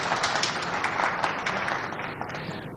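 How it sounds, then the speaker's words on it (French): A crowd applauds the Chinese delegations at a China–DRC media forum, a dense wash of clapping that holds steady and then gradually thins and fades. "J'espère un tonnerre d'applaudissements pour toutes les délégations chinoises qui nous accompagnent ces jours."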